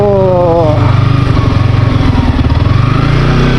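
A motorcycle engine runs loud and close on a rough off-road Nepal road, revving with a rapid pulsing throb that rises briefly at the start.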